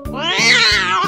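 A cat meows once, a drawn-out, wavering cry, loud and close over a steady thumping beat.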